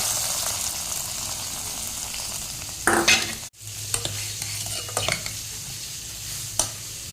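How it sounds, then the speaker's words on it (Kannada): Fish frying in a pan with curry leaves being added, giving a steady sizzle with scattered pops and a few louder stirring clatters, with no voices. "ಇಲ್ಲಿ ಮೀನು ಫ್ರೈ ಆಗ್ತಾ ಇದೆ"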